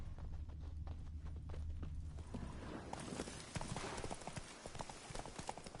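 Hoofbeats of the horse Roach in The Witcher 3, a steady clip-clop that starts soft and builds into a fast, rhythmic galloping patter, close and continuous.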